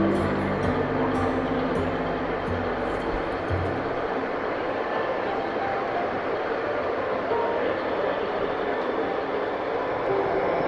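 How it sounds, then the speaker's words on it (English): A model railroad train runs along a club layout, heading toward a tunnel into a mountain scene, a steady continuous rumble and rolling hum throughout, with brief lower tonal sound near the start. "there goes that same train we were looking at earlier, heading back over that way and gonna go into the mountain through that tunnel"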